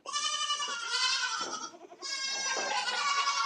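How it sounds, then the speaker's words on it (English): A goat bleat played as a sound effect, two long wavering cries in a row with a short gap between them, clear and close with nothing behind them. "I always forget to play the GOAT"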